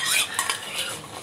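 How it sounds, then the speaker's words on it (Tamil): A utensil scrapes and stirs thick jackfruit halwa in a pan as ghee is added, a short burst of close metallic scraping and soft sticky swishing. "இப்போ நான் நெய் சேர்த்துட்டு இருக்கேன்."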